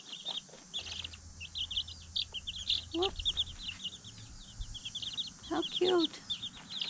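Backyard chickens scratching and clucking, with soft clucks and high chirps scattered throughout and a few louder calls near the end, faint overall; a person speaks briefly.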